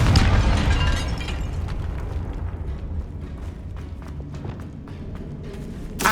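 A Confringo blasting spell goes off in Hogwarts Legacy: a loud burst at the start that fades into a rumbling, crackling tail, with a sharp pop near the end.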